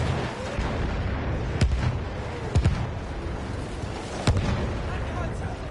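Objective explosion in a Rush clan battle video game, heard as a few sharp booming blasts over a steady rumbling battlefield din, with a voice talking underneath.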